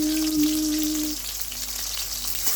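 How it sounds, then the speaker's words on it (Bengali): Onions fry in hot oil until browned, giving a close, steady crackling sizzle with a faint tonal hum in the background and no speech. "এভাবে ভেজে নেব। বাদামি বর্ণ হলে এটা তুলে রাখবো"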